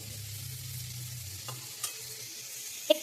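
Food spread out in a pan and frying during home cooking, a quiet steady sizzle with a low hum underneath and a few small clinks and scrapes of stirring near the end.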